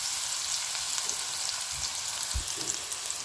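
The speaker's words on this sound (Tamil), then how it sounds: "வெங்காயம் நல்லா வதங்கிட்டுருக்கு" Onions sauté in a frying pan for a Tamil cluster-bean stir-fry, giving a steady broadband sizzle with a few low clunks from stirring, with no voices present.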